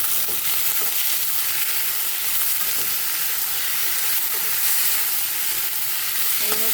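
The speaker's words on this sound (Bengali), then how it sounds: "এইভাবে আলুটা ভালো করে ভেজে নেবেন লাল লাল করে" Potatoes fry in a pan with a loud, steady sizzle, and occasional scrapes and knocks come from stirring.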